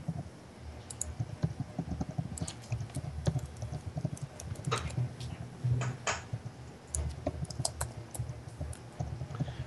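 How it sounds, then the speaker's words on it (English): Typing on a computer keyboard during a game stream, with rapid irregular key clicks going on throughout, fairly close and under a quiet background. "I type way worse when I'm typing for this stream than."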